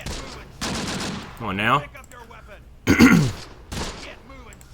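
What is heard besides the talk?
gunfire from the video game Close Combat: The Bloody First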